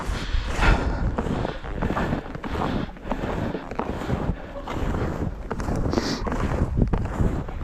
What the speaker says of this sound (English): And it got windy once we broke out of the woods there.